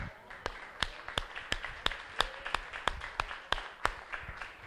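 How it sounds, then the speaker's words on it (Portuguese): An audience at a religious sermon claps in a sparse, rhythmic way, with sharp distinct claps at a fairly even pace, faint and somewhat distant. "Mais uma salva de palmas a ele."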